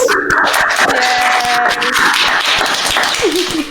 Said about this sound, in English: A round of applause for all of you here, from me and everyone.